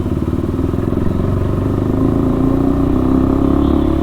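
A KTM RC 390 motorcycle, a 2022 model with its catalytic converter deleted, idles loud and close with a steady, throbbing exhaust burble and no talk.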